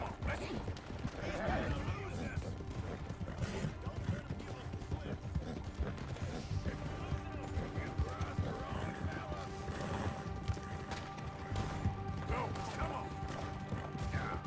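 Steady clip-clop of horse hooves trotting in a video game, with creaks and mechanical rattles, under a person talking.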